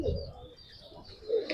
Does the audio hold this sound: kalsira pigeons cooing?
yes